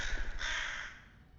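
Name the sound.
crows cawing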